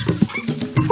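Wild dogs in the Safari Adventures Africa video game on the Zambezi savannah let out a few short, close barks and yips in quick succession over a busy game soundscape.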